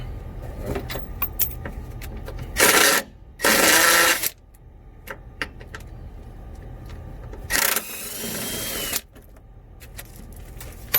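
A power tool loosening and removing a bolt runs in two loud, close bursts of a second or two each, separated by quieter shop noise and faint clicks.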